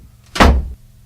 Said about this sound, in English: that sound you just heard is the sound of a laser.